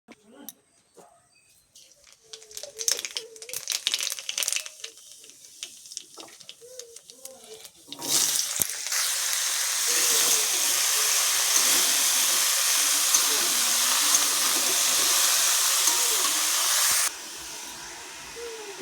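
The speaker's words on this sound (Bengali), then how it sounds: "এখানে তেল গরম হয়ে গেছে, কালো জিরা ফোড়ন দিয়ে" Nigella seeds tempering in hot oil, a loud broadband sizzle that bursts in around the middle and holds steady before dropping slightly, with a voice talking faintly beforehand.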